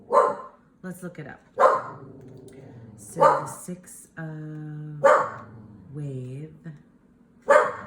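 A dog barks a few times in short bursts, mid-distance, while a person keeps talking indoors.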